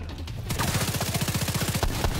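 Enemy gunfire in The Division 2 shooter game: a rapid automatic burst of closely spaced shots rattling on for about two seconds after a brief quieter lead-in, loud and steady with no talk.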